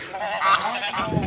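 Geese honk in a quick, continuous run while chasing a dog on a rural property, close and fairly loud with no talk.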